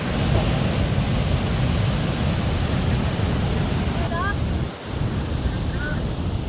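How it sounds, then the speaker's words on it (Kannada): Water released through four gates of Bhadra Dam into the river makes a constant heavy roar with wind buffeting the microphone, and a brief faint voice over it. "ಜಲಾಶಯದ 4 ಗೇಟ್ಗಳ ಮುಖಾಂತರ ನದಿಗೆ ನೀರನ್ನ ಬಿಟ್ಟರು."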